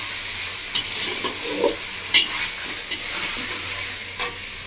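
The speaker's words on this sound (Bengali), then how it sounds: "মশলা থেকে তেল ছেড়ে দিয়েছি, খুব ভালো করে কষিয়ে নিয়ে গেছি মাংসটা।" Mutton pieces sautéed in oil with spices, village-style curry with raw papaya, giving a steady close sizzle with a few scraping stirs of a spoon through the pan.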